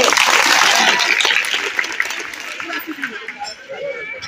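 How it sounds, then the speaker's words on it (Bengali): Children clap together in a classroom, a dense burst of applause that is loudest at first and then thins out into scattered claps with some murmuring voices. "সবাই হাততালি দাও, পেরেছে"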